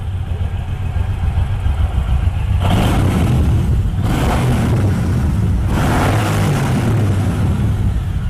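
Suzuki Intruder M1800R motorcycle engine, a loud rumbling idle broken by two strong throttle revs that swell and fall back, close up with no talking.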